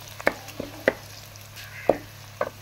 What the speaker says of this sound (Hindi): ये सबसे पहले मैं करूँगी प्याज़ों को हल्का ब्राउन